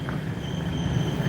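A Chicago L elevated train passes nearby, giving a steady rumbling roar with a faint high metallic whine on top, alone with no talking.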